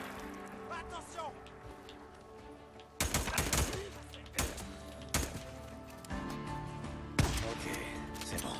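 Bursts of gunfire crack out in the video game Days Gone during a chaotic firefight, several loud sharp volleys over a layer of game music and ambient noise, with voices in the background.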